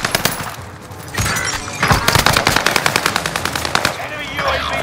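Automatic gunfire rattles in rapid, loud bursts during a Call of Duty: Modern Warfare match. The shots repeat in a tight rhythm over about five seconds, close and dominant, with no pause long enough for anything else to come through.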